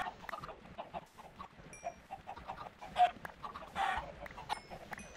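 Video game chickens cluck and squawk repeatedly in an irregular, busy stream, with a few louder bursts, heard at moderate level with no talk over them.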